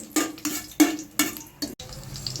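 Prawn mixture being added to hot oil with biryani masala and green chillies in a pan: five or six sharp spoon-on-pan clanks in an uneven rhythm, with a faint sizzle underneath.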